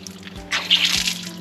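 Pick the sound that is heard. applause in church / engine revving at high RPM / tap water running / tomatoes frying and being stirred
tap water running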